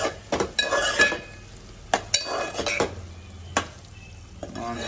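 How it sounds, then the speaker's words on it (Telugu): A spoon scrapes and clinks in a pan as green chilies are stirred into frying oil for a Nellore fish curry. A steady sizzle runs underneath the repeated close stirring strokes. "మిక్స్ చేద్దాం. పచ్చిమిర్చి వేసుకుంటున్నాం."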